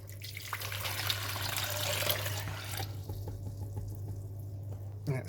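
Water is poured into the RO tank of a reef aquarium setup, a steady close splashing pour for about three seconds that then stops, leaving a low hum and a small clunk at the end.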